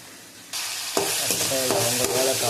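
Cinnamon, cloves and cardamom go into softened frying tomatoes for chicken gravy, starting with quiet pan noise, then a sudden loud sizzle and several rhythmic scraping stirs, close up.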